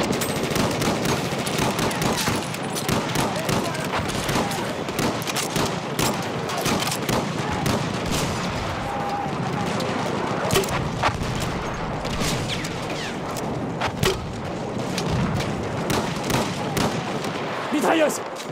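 An enemy machine gun firing in Battlefield 1, sustained rattling bursts of automatic fire with distant explosions, dense and loud throughout, while French-speaking soldier voices call out over the battle.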